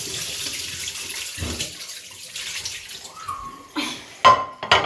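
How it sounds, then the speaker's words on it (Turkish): Water runs and splashes as anchovies are drained in a colander in a home kitchen, a steady wash of flowing water followed by a few louder splashes and clatters near the end. "Süzgecimizi atıyoruz buraya ve balıklarımızı hamsilerimizin içine atıyoruz."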